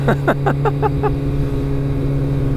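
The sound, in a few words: Kawasaki ZX-14R motorcycle accelerating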